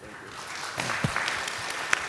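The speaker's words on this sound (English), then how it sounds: "Big round of applause to you." Audience applause for a young business owner at a youth business expo keynote, a steady wash of clapping hands from a crowd that builds in density, with a few louder individual claps standing out.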